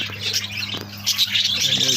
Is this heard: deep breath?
no